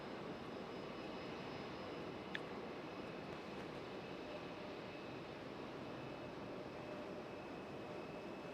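A fixed-wing airliner on final approach at Raleigh-Durham International Airport gives a steady, distant broadband engine roar that stays even throughout, with one brief faint click partway through.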